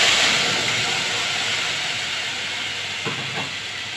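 Bottle gourd peel goes into hot cooking oil, a loud, close, continuous sizzling hiss that slowly eases off, with a few faint utensil clinks near the end.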